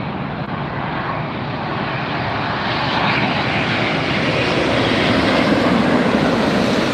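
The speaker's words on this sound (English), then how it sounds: "Arriving from Copenhagen, this is SAS Flight 931 and Airbus 950, or excuse me, Airbus 350-900." An SAS Airbus A350-900 airliner arriving from Copenhagen at LAX roars close by, its jet engine noise swelling steadily louder across the whole stretch.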